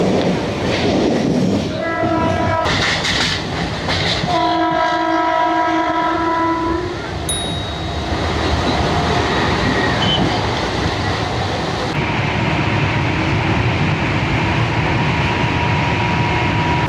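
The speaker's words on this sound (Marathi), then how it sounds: "ही आपली डहाणू लोकल डहाणूसाठी निघाली आहे" A local train horn sounds in a few long harmonic blasts, then a steady rumble and clatter of rolling wheels as the Virar–Dahanu local pulls away from platform 6.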